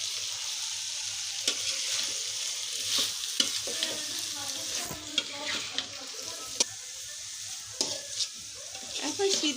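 Boiled beef sautéed in a pan with cabbage, carrot, coriander and green chili, a quiet hiss broken by repeated scraping and clacking spatula strokes at an uneven pace, no talking.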